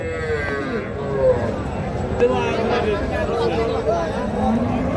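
A young heifer calf moos repeatedly at a busy rural cattle market in Raniganj, with low drawn-out calls rising over steady crowd chatter and nearby voices.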